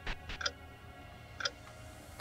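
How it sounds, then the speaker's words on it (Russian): The default clock tick from the game Hello Charlotte gives a few soft, evenly spaced close ticks over a quiet background, with no voices. "Это звук часов по умолчанию."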